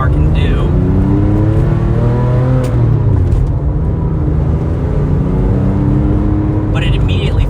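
A car engine drones loud and continuous while driving a curvy road, its pitch sweeping up and down as the driver works through the bends, the sound close and steady throughout.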